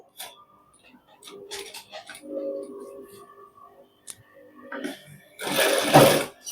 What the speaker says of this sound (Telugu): రౌండ్ కూడా నీట్గా ఇలా కుట్టేసుకోవాలి మనం